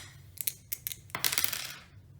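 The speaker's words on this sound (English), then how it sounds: "All right, so Tommy has the dice now" Dice are thrown in a street game of craps, rattling in a few quick clicks before tumbling and skittering across a hard surface in a longer clattering burst, close and fairly quiet.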